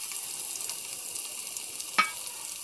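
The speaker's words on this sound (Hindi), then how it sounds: "थोड़ा सा भून लेते हैं इसको" Crushed garlic, onion and ginger fry in oil with cloves and black pepper, a soft continuous sizzle with one brief sharp crackle partway through.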